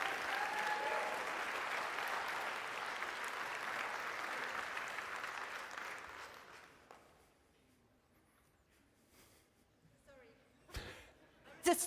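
A live stage audience in Brno cheers and applauds in a loud, dense roar for about six seconds before it fades out, leaving a quiet room with a few scattered knocks and rustles.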